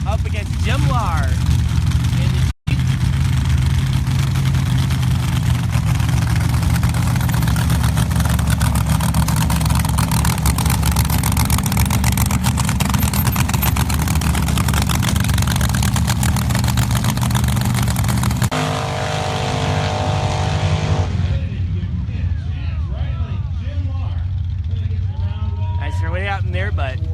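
Drag racing cars roar at the start line of an SCSDA Hammer Down Nationals elimination round, a loud dense engine drone sustained for most of the stretch before dropping away, with an announcer talking over it.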